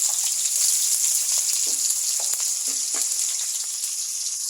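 Cumin, onion and green chili sizzle in hot oil for a cabbage stir-fry, a steady close crackling hiss with scattered pops throughout and no talking.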